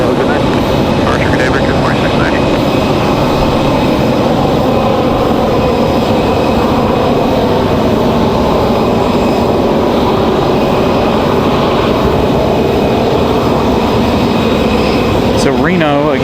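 A Copa airliner in retro livery at Raleigh-Durham airport gives a loud, steady jet roar that holds for the whole stretch, with a voice talking over it.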